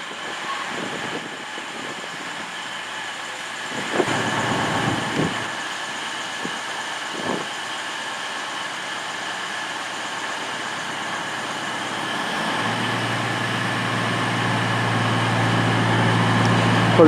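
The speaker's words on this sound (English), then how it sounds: "Pulling out of Banbury now is cross country to Class 220 Voyager service" A Class 220 Voyager diesel train rumbles and hums at a steady level at Banbury station, its engine note rising toward the end as it pulls away, with a few brief clanks along the way.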